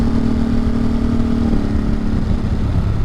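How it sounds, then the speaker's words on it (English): Motorcycle cruising along a mountain road in the Catskills at dusk, its engine droning loud and steady throughout with a faint, fluctuating hum on top and no talk. "The bike is just too quick."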